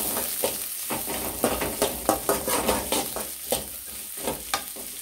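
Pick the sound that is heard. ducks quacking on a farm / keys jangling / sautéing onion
sautéing onion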